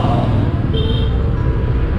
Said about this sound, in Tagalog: medyo traffic na dito sa Tondo